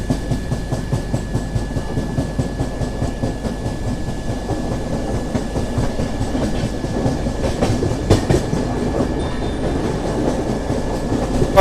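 The Tamil Nadu Express runs through a curve, wheels beating a steady clickety-clack over the rails beneath a continuous carriage rumble, close and moderately loud.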